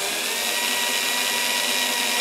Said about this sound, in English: Now I put a tiny drill bit in here